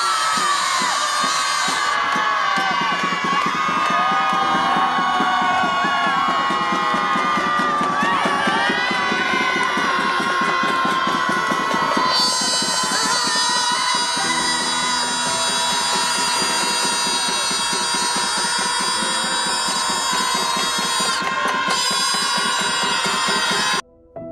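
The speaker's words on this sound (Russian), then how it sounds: "И у нас будет минута крика, нашего общего крика, ярости и гнева" A large crowd screams together in protest, a sustained, loud, massed roar of voices that holds for over twenty seconds before cutting off abruptly at the end.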